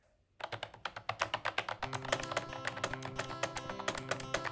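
Someone types on a cheap, loud wireless membrane keyboard with high key travel. After a brief silence comes a fast, dense run of close clacking keystrokes that grows busier as it goes on.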